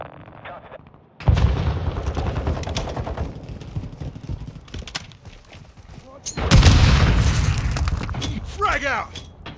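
A flash grenade going off in the video game Call of Duty Modern Warfare 2 multiplayer: a sudden loud burst and long rumbling roar, amid earlier gunfire and a second heavy blast later, with game voices mixed in.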